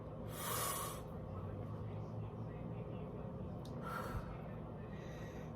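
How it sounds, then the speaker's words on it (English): Deep breathing, two separate strong noisy breaths about three seconds apart, close and fairly loud over a faint steady background hum. "Breathe in, breathe out."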